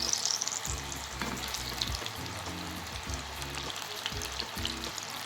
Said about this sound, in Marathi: तर आपण आता सोयाबीन फ्राय करण्यासाठी घेणार आहोत